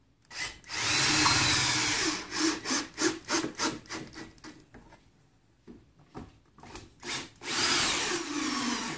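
A power driver sinks toenail screws at an angle into recycled decking wood for a rustic table, long whirring drives alternating with a rapid series of short bursts, close and clear with no talk.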